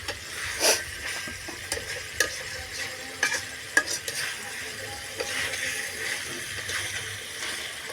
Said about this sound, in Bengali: এভাবে ভালো করে কষিয়ে ফেলবো।